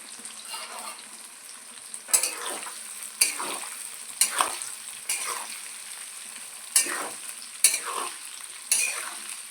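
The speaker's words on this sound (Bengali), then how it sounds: "একটু নাড়াচাড়া করবো এটাকে।" Ajwain and other pickle spices are stirred in a frying pan with a spatula, giving a low sizzle broken by about eight regular scraping strokes, close and moderately quiet.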